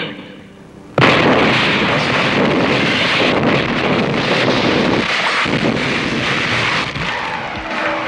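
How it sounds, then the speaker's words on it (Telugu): A sudden loud bomb blast erupts after a brief quiet start, followed by a long roaring, rumbling wash of noise that stays dense and heavy. "అదే చోట యాంటోనీ బాంబు పెట్టాడు"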